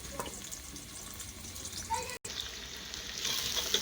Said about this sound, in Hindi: ये ऑयल हमारा गर्म हो चुका है। अब इसके अंदर हम प्याज ऐड कर देते हैं।